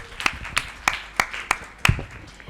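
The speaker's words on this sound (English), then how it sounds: "I think this deserves a large round of applause" Six separate claps ring out at a slow, even pace, close by and sharp, a few hands applauding at a stereotype-breaking convention rather than a full ovation.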